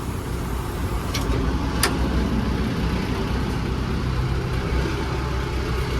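A stuck JCB-type vehicle's engine runs steadily at a low, rumbling idle, loud and continuous with no talk, as the machine sits in place before recovery.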